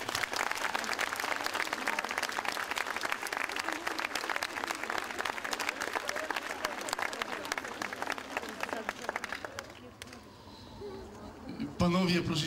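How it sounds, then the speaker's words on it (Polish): An audience applauds the actors at a theatre performance of the play Zraniony Pasterz, with dense, steady clapping through most of the stretch that fades near the end before a brief louder burst. "możemy przywitać, nawet powinniśmy przywitać oklaskami aktorów"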